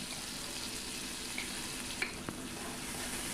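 Poppy seed paste being stirred and fried in a pan over a medium flame, giving a steady, even sizzle with a few faint clicks of the spoon against the pan.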